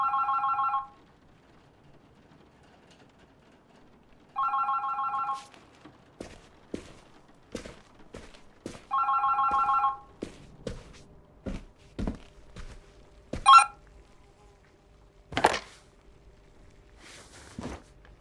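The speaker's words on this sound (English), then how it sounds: "Oh, the phone. Oh, that's all I need right now." A telephone rings in The Berlin Apartment video game, three loud bursts of ringing spaced a few seconds apart, followed by scattered footsteps and thunks in a quiet room.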